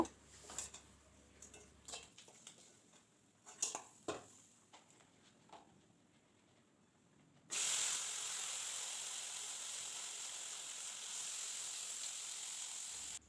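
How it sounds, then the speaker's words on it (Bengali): Tengra fish fry in oil in a pan. A few faint clicks and taps come first, then a sudden, steady, even sizzling hiss takes over for the rest, fairly quiet and with no talking. "আমি একসঙ্গে দিইনি অল্প অল্প করেই ভাজা করছি আর ট্যাংরা মাছ ভাজা করতে কিন্তু একটু টাইম লাগে"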